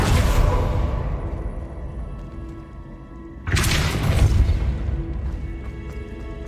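A Depulso spell cast in Hogwarts Legacy lands as a sudden booming blast with a crashing, whooshing burst over a steady game rumble, then decays back into the ambient background.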